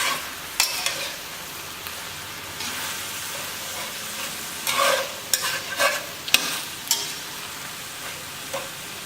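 Ground Snake River Farms wagyu brisket frying with chopped onions in a pan, a soft steady sizzle with intermittent stirring scrapes and clatter from a spatula, close by and fairly quiet.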